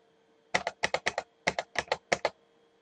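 Typing on a computer keyboard while testing a search box: two quick bursts of about five close, crisp keystrokes each, separated by a short pause, near and clear over a quiet background.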